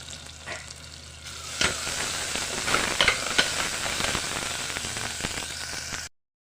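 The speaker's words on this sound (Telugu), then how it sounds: "రసం పౌడర్లో కళాయిలోకి వేసుకొని మరోసారి ఫ్రై చేయండి" Spices, curry leaves and rasam powder fry and sizzle in a hot kadai while making pepper rasam, a steady crackling hiss with occasional stirring scrapes, close and continuous before cutting off abruptly near the end.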